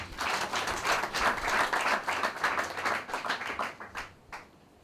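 An audience at a debate on mining in Brazzaville applauds a ministry official being introduced, a full, lively round of clapping that stays strong for several seconds before thinning out.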